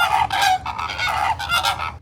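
Upset long-necked geese honking loudly at close range in a repeated series of harsh, nasal calls with brief pauses between bursts, set against a low background murmur.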